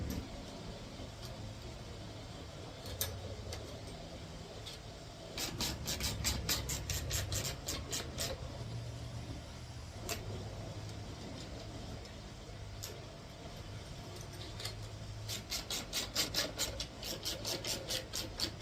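U-bolts being screwed down on a homemade night fishing light mount, giving bursts of rapid ratcheting clicks and rasping turns that come and go over a low background rumble, fairly close and with no talking.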